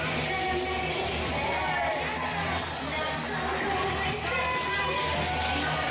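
Crowd at an independent wrestling show with kids cheering and shouting, a dense continuous roar of voices and yells close around, with a commentator's voice talking over it.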